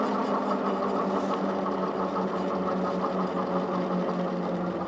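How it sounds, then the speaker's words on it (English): A Lectric Xpeak electric mountain bike's hub motor strains up a steep hill on throttle alone, giving a steady, close mechanical whine with a constant hum and no talking. "Let's just do some throttle only here at first."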